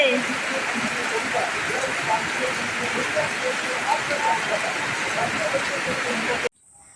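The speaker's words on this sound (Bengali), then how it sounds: "কি পরিমাণে বৃষ্টি হচ্ছে দেখেছ প্রচুর বৃষ্টি হচ্ছে" Heavy rain pours down in a steady, dense hiss of countless drops striking surfaces close by, unbroken and loud until it cuts off abruptly near the end.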